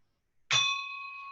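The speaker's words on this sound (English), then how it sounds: "I'll ring my official bell." A single official bell struck once to close a Rotary meeting, giving a bright metallic ding that rings on cleanly and slowly fades, heard alone and close.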